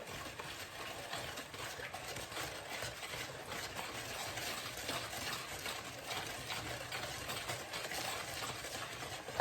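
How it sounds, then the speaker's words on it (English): Eggs are whisked into Victoria sponge cake batter by hand, a continuous dense rapid scraping and slapping that stays close and fairly loud throughout, with no speech. "with a Victoria sponge like this, there's so many eggs, it's best to just whisk it together"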